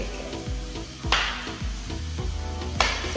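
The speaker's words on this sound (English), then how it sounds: "I hear that bacon sizzling." Bacon sizzles and crackles steadily in a pan, close and loud, with a few sharp pops and utensil knocks over the constant fry.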